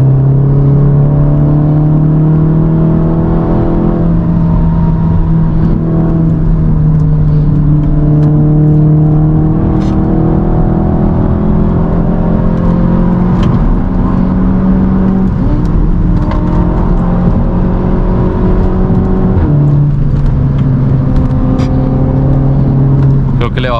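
Loud, sustained engine drone during a street race between a Porsche 718 GT4, a Boxster S 981 and a Cupra 290, with pitch rising and dropping through gear changes, heard from inside a car alongside constant talking.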